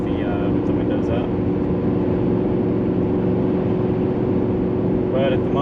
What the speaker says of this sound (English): You can hear the exhaust plenty well with the windows up.